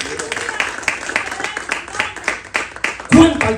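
Clapping from a church congregation during a Spanish-language evangelical service, a dense patter of many hands under a preacher's loud voice, with a sharper burst near the end.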